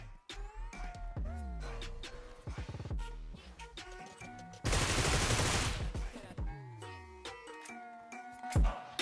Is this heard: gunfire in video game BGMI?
yes